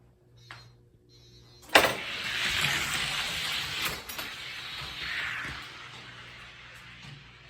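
Hershey's and Clown Funny Car toy cars race down a track in lanes 2 and 5, a sharp launch clack followed by a few seconds of steady rolling whir that fades near the end, with no talk.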